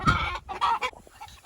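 A rooster and his hens in a Central Texas chicken coop cluck and cackle up close in loud, overlapping bursts, a strong squawk at the start and more fading calls after.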